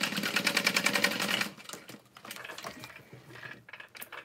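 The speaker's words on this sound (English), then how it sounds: "So I sewed two lines that are parallel to each other" A sewing machine stitches backpack fabric in a fast, rhythmic run of needle strokes that stops partway through, followed by quieter clicks and handling noises.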